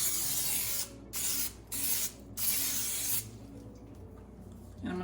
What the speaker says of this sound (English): Okay, I'm gonna spray my bowl.